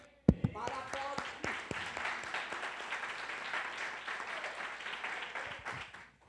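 A church congregation applauding at a doctrine service, a steady dense wash of clapping that lasts several seconds after a few sharp opening claps.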